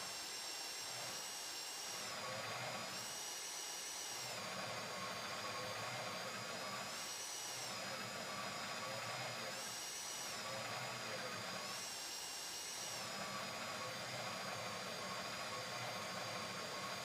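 Drill boring into the Fleeca Bank vault in a GTA roleplay game, a continuous loud mechanical whine that swells and eases in a steady rhythm every couple of seconds, with no voices.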